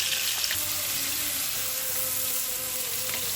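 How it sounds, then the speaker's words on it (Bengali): Chopped onions hiss and crackle in hot oil, a dense, steady sizzle close by with no talking. "তেলটা গরম হয়ে গেছে আমি এখন এতে দিয়ে দিচ্ছি বেশি করে পেঁয়াজ কুচি"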